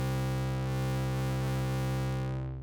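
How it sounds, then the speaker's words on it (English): A sustained, buzzy bass note runs through the distortion effect of the Loopmaster Bass Master plugin. It holds steady and dense for a couple of seconds before fading slightly at the end, with no voices. "So that's the distortion right there."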